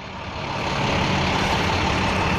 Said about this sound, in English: Ooh, they got a money truck.